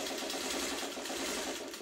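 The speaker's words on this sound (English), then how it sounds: "you're sewing between the purple and the black" A sewing machine stitches pieces of a quilt block together, a steady rapid mechanical whir and needle chatter running continuously, close and fairly faint, with no talking.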